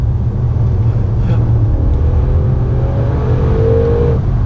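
An Audi RS6 engine revs up loudly and steadily right after a downshift, a sustained close-up roar from inside the car.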